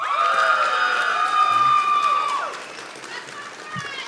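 Cheering and whooping from the crowd at a respiratory therapy graduation ceremony, with sustained voices and scattered claps that are loud at first and then ease down toward the end.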